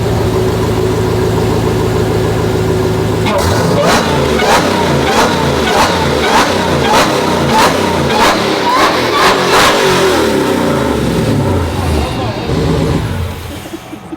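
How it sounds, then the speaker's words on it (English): A Ram pickup truck swapped with a Hellcat Redeye engine, idling loud and close before a series of sharp throttle blips, about eight rapid revs, then settling back to a rumbling idle. "Just the way the truck sounds."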